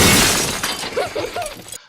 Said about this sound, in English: or breaking some glass.